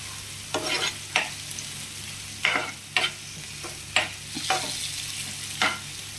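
Mutton pieces being stir-fried in a pan for a Bengali dhaba-style mutton curry, with repeated scraping and stirring strokes over a steady low sizzle, close and moderately loud, no talking.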